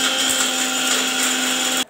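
A kitchen mixer grinder whirs loudly and steadily while grinding onion and tomato, then cuts off abruptly near the end; no voices.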